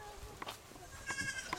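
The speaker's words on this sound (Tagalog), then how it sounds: "Daming kambing na maliliit" Small goats bleating at a farm breeding pen, a few short nasal bleats scattered over about a second and a half, close by, with faint voices talking in the background.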